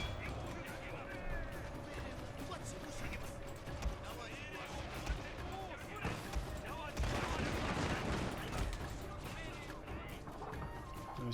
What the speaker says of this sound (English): Let's get those matchlocks firing.